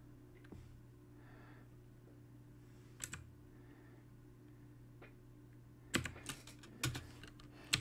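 Typing on a computer keyboard while entering Java code, with a few faint scattered key taps early on and a louder cluster of quick keystrokes near the end, close and alone without talk.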